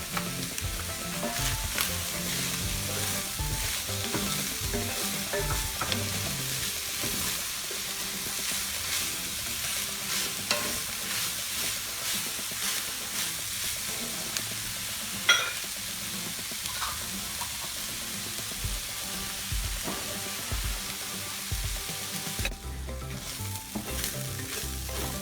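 Chopped seeded jalapeno peppers sautéing in a pan for a spicy rice casserole, a continuous close sizzle with intermittent stirring and scraping sounds throughout, no talking.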